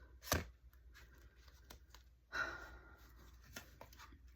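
Tarot cards are shuffled in short, crisp riffling bursts with quiet pauses between, close up in a hushed room.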